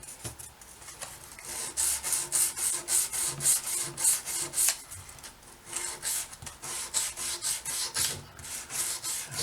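Sandpaper from 240 grit upward rubs back and forth along guitar frets in quick, rhythmic strokes, each pass a close, scratchy rasp, with a few brief pauses.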